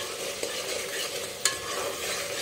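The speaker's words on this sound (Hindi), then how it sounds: "हमारे टमाटर अच्छे से फ्राई हो चुके हैं" Tomatoes fry in a pan with a steady close sizzle, broken by a couple of sharp scrapes as a spoon stirs them; no voices.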